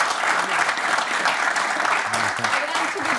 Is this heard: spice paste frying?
no